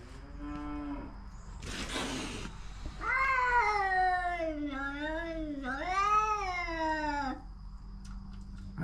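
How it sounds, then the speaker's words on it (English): A cat gives a couple of loud, drawn-out meows up close, one long wavering call after a brief rustle, against a quiet steady background hum. "I don't know if that was coming from the gold cat"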